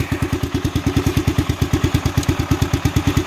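A restored Honda XR500 motorcycle sits running with its exhaust thumping in a steady, even rhythm of loud, close low pulses, with no other mechanical noise.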